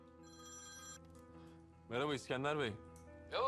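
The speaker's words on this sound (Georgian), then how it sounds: "ისკანდერი რეკავს." A telephone rings with a bright electronic tone for about a second, then a voice speaks up close over a low background hum.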